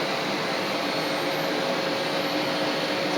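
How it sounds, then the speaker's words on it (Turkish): A heavy household vacuum cleaner runs steadily as a child pushes it across a carpet, a loud, continuous close whirring drone with no pauses. "Süpürge çok ağır tabi."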